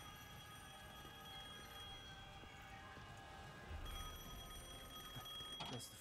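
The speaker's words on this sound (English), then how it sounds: "Oh, the payphone's ringing?" Payphone ringing in the video game Devil May Cry 5, a faint, steady bell-like tone with sustained ringing harmonics, joined near the end by a brief louder thump and scrape.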